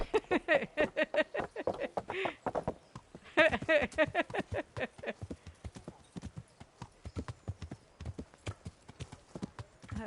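A horse ridden in Kingdom Come: Deliverance clip-clops in a steady, rapid beat of hoofbeats throughout, with someone talking over the first half and a brief whinny near the start.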